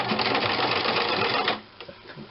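A sewing machine hums and clatters in rapid, even stitching for about a second and a half, close and loud, then stops, leaving faint handling clicks.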